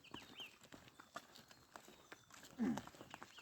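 Light hoof clip-clops of a Nepali horse walking, irregular steps at a distance, with a faint louder thump near the end.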